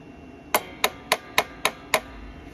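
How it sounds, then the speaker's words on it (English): A screwdriver taps the metal clamp arm of a bartacker sewing machine in six light, evenly spaced metallic knocks, close and crisp against a quiet background. "So I'll take the screwdriver and I'll tap this part of the arm"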